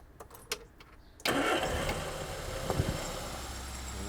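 A car engine cranks and catches after a carburettor repair, firing up abruptly after a few faint clicks and settling into a steady, fairly loud running idle with no talk.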